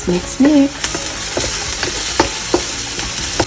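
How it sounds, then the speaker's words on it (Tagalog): Garlic sautéing in a pan for seafood paella, with a steady sizzle and clicking spoon stirs. Faint bits of voice rise briefly near the start. "I'll put right now the garlic for our paella, for sauteing"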